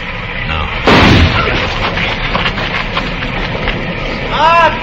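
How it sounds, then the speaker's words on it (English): A single sharp gunshot rings out in a Western radio drama, a loud blast shooting at a tree, followed by rumbling echo and movement sounds. "I'm going to flip a shot at the tree, Chester."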